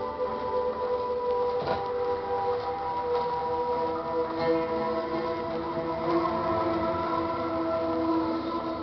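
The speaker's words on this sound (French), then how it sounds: "Ah, on a un métro." Subway train in Fallout 3 rumbling steadily with a droning, tonal hum and faint metallic rattles throughout, continuous and fairly close, with no talk over it.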